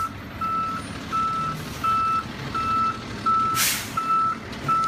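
A truck reverses with a loud, evenly spaced backup beeper sounding about six times alongside a rumbling engine, with a brief hiss of air brakes partway through.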